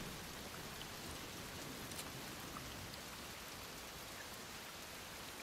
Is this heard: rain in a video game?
yes